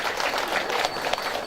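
Wedding guests applaud at a Balinese wedding ceremony, a dense, steady wash of clapping from a nearby crowd lasting a moment, with no clear speech over it.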